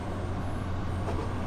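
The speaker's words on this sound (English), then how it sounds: "here we are driving train in Tokyo in Japan, one of the most famous train network in the world" A JR East train runs through Tokyo in a train-simulator game, giving a steady, dense low rumble and wide broadband rolling noise with no breaks.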